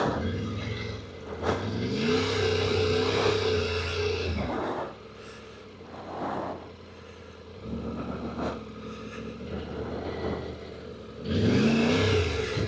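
A 2025 Triumph Tiger 900 Rally Pro motorcycle rides at slow speed, its engine droning and rising in swells with brief throttle revs and quieter lulls, heard close from the rider's position.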